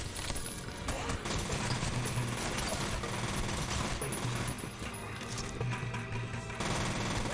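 Sustained machine gun fire in a horror shooter game, dense rapid bursts rattling almost continuously at moderate level, with brief pauses between long strings of shots.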